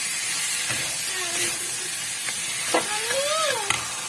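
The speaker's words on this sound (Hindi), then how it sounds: "हींग वगैरह डाल के प्याज का तड़का लगा करके हम बना रहे हैं" Onion and asafoetida tempering sizzles and hisses steadily in hot oil up close, with a few soft clinks and stirring noises mixed in.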